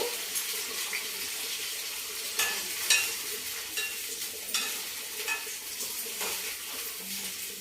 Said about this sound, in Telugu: వంకాయ ముక్కలు వేసుకుందాం ఫస్ట్